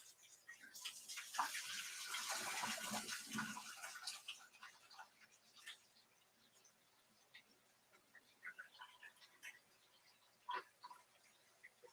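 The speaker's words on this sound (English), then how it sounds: "we can dump out the water from the taters" Cooking water poured off boiled potatoes into a sink, a faint splashing gush for a few seconds followed by scattered drips and small clatters.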